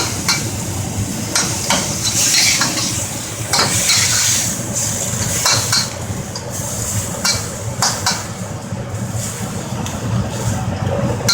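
Shallots stirred in a hot pan for stir-fried rice cakes, a steady sizzle with repeated scraping and clicking of a utensil against the pan, close and continuous with no talking.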